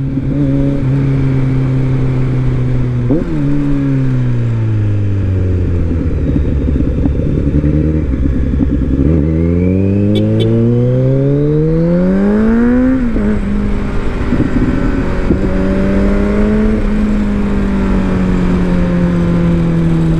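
A 2021 Kawasaki Z900 motorcycle engine roars loudly and close while riding, its pitch climbing repeatedly through the gears with drops at each shift, then rising again and settling into a steady drone.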